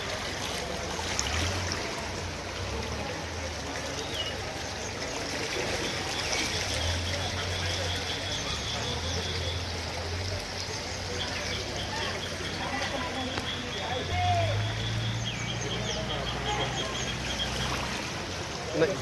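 Floodwater runs steadily after heavy rain in Solapur, a broad continuous rushing wash that holds level throughout, with people talking over it.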